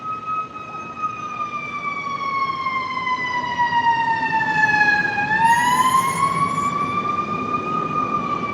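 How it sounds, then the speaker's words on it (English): A loud emergency siren wails steadily with a rising and falling pitch, its tone dipping and then climbing again as the ambulance passes close by, with no talk over it. "let me just wait for this ambulance to pass"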